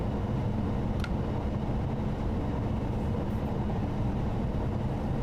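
A high-speed train rolls along the Cologne line in Train Sim World 2, producing a steady low rumble and hum that stays even and close throughout, with no talk.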